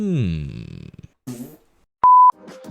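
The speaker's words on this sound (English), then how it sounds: "I may have gone a little overboard on the fart sounds" Cartoonish fart sound effects from an indie video game, a few short sputtering blasts and squelches with a brief electronic beep between them, clean and close.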